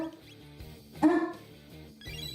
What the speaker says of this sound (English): I got dogs barking.